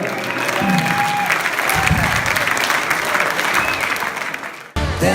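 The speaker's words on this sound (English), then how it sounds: "Give us a great applause after it" Audience applause fills the room loudly and steadily for nearly five seconds, with a bit of crowd noise mixed in, then cuts off abruptly.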